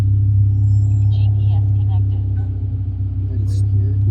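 Nissan Z car idling with a steady low engine rumble as the clutch is slowly let out in first gear, the note holding nearly constant; people talk over it.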